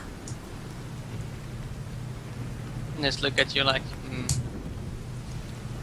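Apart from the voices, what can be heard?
rain and thunder ambience in a tabletop game session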